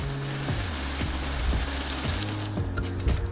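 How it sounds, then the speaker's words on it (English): A garden hose sprays a steady jet of water onto a car body, producing a continuous loud rushing hiss close by with a low engine-like hum underneath, and no one speaking. "Let's get a jet of water here."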